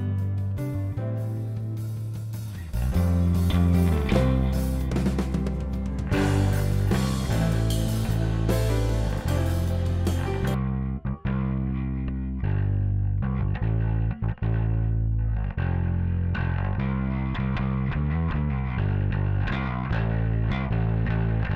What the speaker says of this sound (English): And then I'll solo it so you can hear just how much distortion is there.